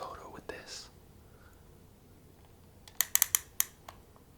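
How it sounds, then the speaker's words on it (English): A film camera's winding mechanism gives a quick run of sharp, close clicks near the end, after a soft whisper at the start and a quiet room in between. "just the click from winding this woke him up"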